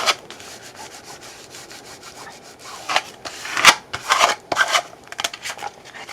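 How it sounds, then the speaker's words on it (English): A paper fold of a handmade accordion wallet is burnished by hand, close-up dry rubbing and scraping strokes in irregular bursts, growing louder and denser toward the end. "And then like really burnish."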